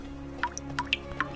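Water drips onto a large stone, a handful of separate clear plinks falling at uneven intervals over a low steady background hum, close and fairly quiet, with no voices.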